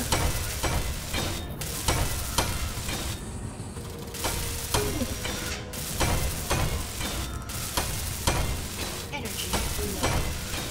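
A welder tool in Space Engineers grinds and crackles continuously, a loud harsh mechanical rasp with rhythmic clicking pulses and brief dropouts, no voices over it.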